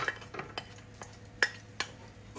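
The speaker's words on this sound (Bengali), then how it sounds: "কাজু বাদামগুলো ভেজে নেব" Cashew nuts frying in ghee in an electric multicooker, stirred with a spoon: soft sizzle with several distinct scraping clinks of utensil against the pot, close and fairly quiet.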